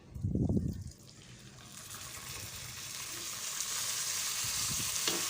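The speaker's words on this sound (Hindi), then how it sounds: "अब मैं इसके अंदर पानी डालने लगी हूँ।" Water poured into a hot pan of sweet vermicelli sets off a loud hiss and sizzle that builds and holds steadily. A brief clatter comes at the start.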